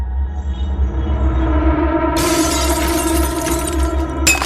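Glass shatters loudly and abruptly partway through, its bright crash spreading into a long scattering of shards over a deep, droning dark ambience, with a second sharp burst of breaking glass near the end.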